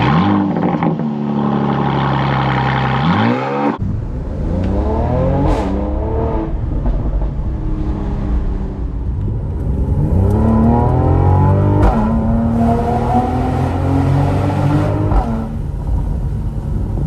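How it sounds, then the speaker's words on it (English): Mercedes-Benz C43 AMG cabriolet, 362 hp, revving hard through rising and falling engine sweeps, loud and close, with brief exhaust crackles and pops between throttle blips and a steady driving drone. "let's listen to some crackle and pops, because this car does make them"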